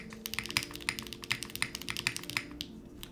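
Soft, muted keystrokes tap out a quick, irregular typing rhythm on a plateless mechanical keyboard with flex cuts, close and fairly quiet with no voices.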